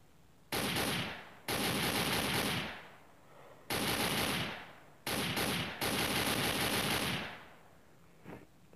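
Automatic gunfire in the game Vast, five sustained loud bursts of rapid shots with brief gaps between them, close and dominant with no voices.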